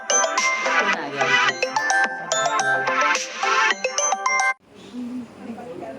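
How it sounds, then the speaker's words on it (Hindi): A mobile phone ringtone rings loudly and repeatedly as a melodic chiming tune for about four and a half seconds, then cuts off abruptly, leaving faint room noise. "देख तब फोन आ गया"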